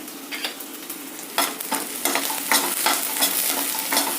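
Green chilies and curry leaves hit hot oil: sharp bursts of sizzling, several loud crackling spurts over a steady frying hiss, close up, with no one talking.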